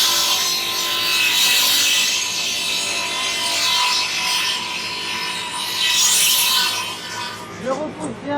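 A circular saw cuts through wood in a workshop, a loud, sustained whining rasp of the blade biting through the board for several seconds before the motor spins down at the end.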